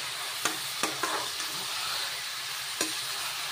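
Goat mutton pieces coated in turmeric and salt fry in oil with onions for a village-style curry: a soft, continuous sizzle punctuated by a few sharp stirring clicks and scrapes, no talking.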